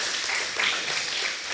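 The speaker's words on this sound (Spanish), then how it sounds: "Un aplauso, gracias." Church congregation applauding after a pastor's announcement, a dense, steady wash of many hands clapping at moderate distance, sustained without a break and with no voices standing out.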